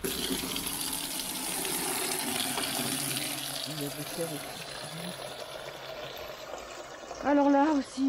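Tap water runs and splashes steadily as something is rinsed, a continuous close gush with a brief louder burst near the end, while someone talks in French over it.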